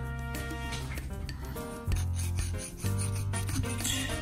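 A file rasps repeatedly across a saxophone mouthpiece during repair work, giving close, steady scraping strokes with a brief pause partway through.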